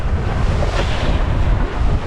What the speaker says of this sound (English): Waves are picking up a little bit.